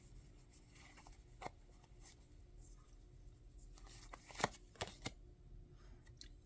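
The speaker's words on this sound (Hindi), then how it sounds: "लास्ट कार्ड निकालते हैं।" Tarot cards rustle and slide softly as they are shuffled and drawn, with a few sharper flicks and taps standing out from a quiet background.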